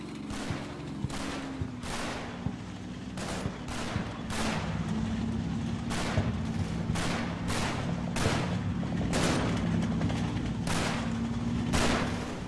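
Gunfire in the WWII strategy game Combat Mission: Battle for Normandy, a steady series of sharp, evenly spaced shots over a low droning hum, moderately distant and fairly quiet.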